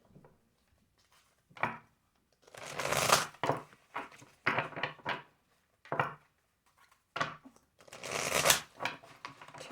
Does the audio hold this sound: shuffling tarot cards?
yes